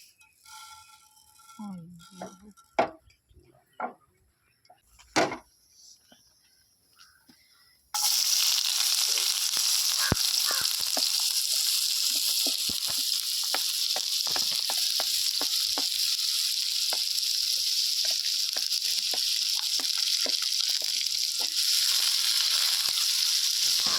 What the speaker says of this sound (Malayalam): എണ്ണ ഒഴിച്ച് നമുക്ക് കടു വറുത്തെടുക്കാം.